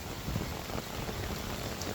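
Heavy rain falls near a waterfall at Anghalo Lubong Nangoloan Falls in San Felipe, Zambales, a dense, steady broadband hiss with no voices.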